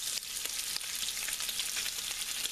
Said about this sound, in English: in this grease we're going to start frying up the meat in batches